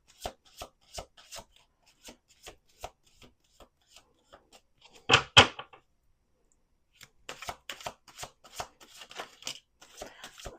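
Tarot cards are shuffled in a steady run of crisp riffling flicks, with a louder dense burst of card noise in the middle, then more scattered flicks and rubbing afterward, close and clear with no voices.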